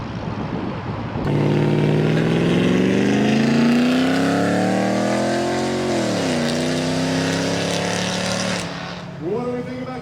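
A Ford truck with a loud exhaust revs hard at a vendors' exhaust contest at the Carlisle Ford Nationals car show. The engine note climbs, holds high, then drops away before a final short blip. It is close and loud throughout.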